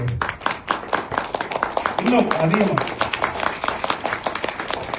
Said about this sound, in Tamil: அவங்களை இன்வைட் பண்றதுக்கு முன்னாடி ஒரு கரகோஷத்தோட இன்வைட் பண்ணலாமா?